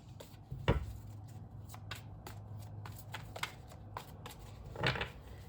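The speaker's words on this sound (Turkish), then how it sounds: "Karıştırmaya kartlarımız devam." Tarot cards being shuffled by hand, a series of quick riffling flutters and soft slaps at irregular intervals, close and fairly quiet, with no talking.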